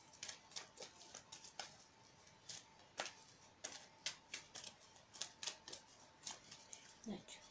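Tarot cards are shuffled in quick, irregular ticks and soft slaps, each sharp and close, while a faint steady hum sits underneath.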